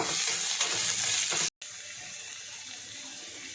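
Ginger, garlic and green chilli paste roasts with capsicum in a hot pan, giving a steady, close, bright sizzle that cuts out for a split second midway, then carries on evenly.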